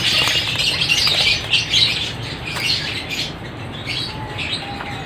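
Red doves in a breeding setup of cages, with soft flapping wings, rustling and occasional chirps and squawks from nearby birds, no talking.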